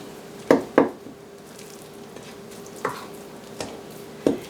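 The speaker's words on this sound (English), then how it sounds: "Scrape the sides of the bowl. Get that flour all incorporated into here." Thick dairy-free, gluten-free apple muffin batter scraped around a mixing bowl, giving a handful of separate soft scraping strokes with short gaps, close and quiet with no talk.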